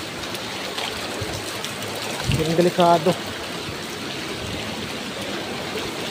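Typhoon Kristine rain and wind, a steady broadband wash of pouring rain with a brief nearby voice speaking partway through.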